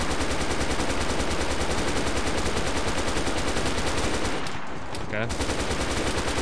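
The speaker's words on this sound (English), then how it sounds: "Just keep shooting." Sustained automatic gunfire in the survival game DayZ, a loud rapid rhythmic stream of shots that runs almost unbroken, briefly pausing before resuming, with a player briefly speaking over it.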